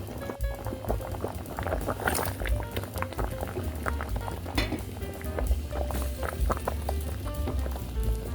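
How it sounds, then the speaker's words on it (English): Collagen-rich liquid rendered from cow feet pours into a pot of soup on the stove, giving a steady liquid splash and bubbling throughout, with faint clattering at moments and no talking. "we're gonna add the collagen, the liquid from the feet. We're going to add it to our soup."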